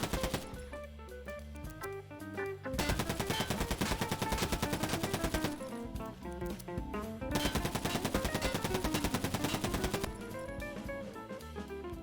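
A UMP45 submachine gun fires in Escape From Tarkov in two long, loud sustained bursts of rapid automatic shots, separated by short pauses, with no voices.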